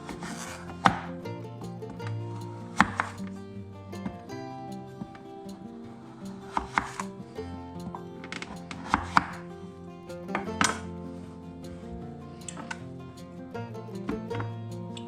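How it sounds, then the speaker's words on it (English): A knife cuts through a pumpkin in a home kitchen, giving repeated sharp chopping knocks roughly every two seconds against a board, close and fairly loud over steady background music. "Now I'm going to slice it up."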